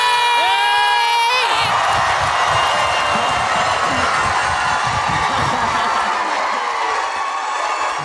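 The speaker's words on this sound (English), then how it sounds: "I'm going to need one more big cheer to welcome the man, the myth, the legend himself, Andy Serkis, to the stage!" A large convention crowd cheering and whooping for Andy Serkis at a C2E2 panel stage, a loud sustained roar of shouts and screams filling the hall, with a musical sting fading out at the start.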